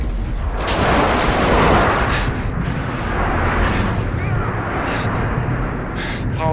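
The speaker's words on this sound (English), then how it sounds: "Friendly airstrike inbound." Airstrike explosions rumble in a Call of Duty MW2 Team Deathmatch on the Quarry map, with dense, continuous booming and crackling blasts swelling and fading over several seconds, loud and close.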